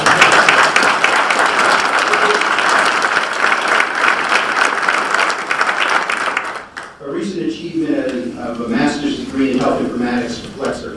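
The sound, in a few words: audience applause for Army spouse Becky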